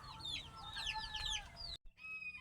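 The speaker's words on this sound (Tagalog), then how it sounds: "Siguro naririnig niya yung ingay ng ating mga lovebirds dito" Pet lovebirds chatter in a dense, overlapping stream of high chirps and squeaky calls, broken by a short pause before the chirping picks up again.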